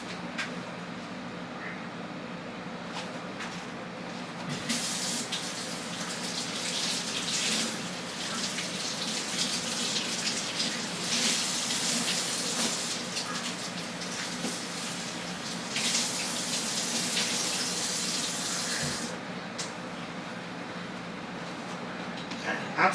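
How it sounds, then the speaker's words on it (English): Kitchen tap water gushing onto a dishcloth, a broad steady rush that swells louder in two long bursts and drops back between them, close by. "Let me get a little bit of water on my dishcloth."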